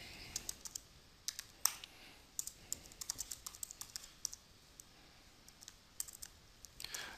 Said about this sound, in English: So just click in that, and then I can type away